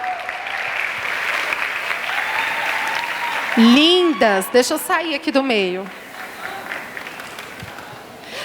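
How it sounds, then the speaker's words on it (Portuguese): A crowd claps steadily throughout, while someone speaks loudly over the applause partway through. "vamos bater palmas para ela"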